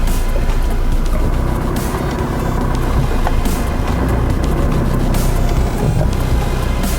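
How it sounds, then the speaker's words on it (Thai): A vehicle engine runs steadily and loudly throughout, a continuous low rumble with broadband road or wind noise and no voices. "ทั้งเสียงเครื่องยนต์นะครับ"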